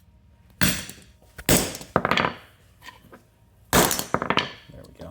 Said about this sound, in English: This tool's fun. You get to hammer stuff.